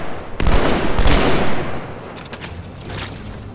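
Rapid gunfire in the video game Halo 2 during a Legendary co-op mission on Delta Halo, a loud burst of overlapping shots that tapers into scattered distant pops.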